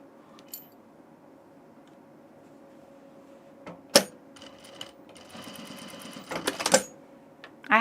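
A sewing machine stitching a dress runs in short, uneven bursts of rapid mechanical clatter, quiet at first and louder toward the end, with sharp clicks between runs and no talking.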